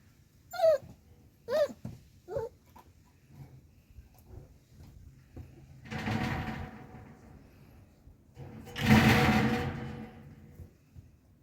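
Estonian hound puppies whimpering in a few short, high whines, followed by quieter shuffling and two longer rustling bursts nearby.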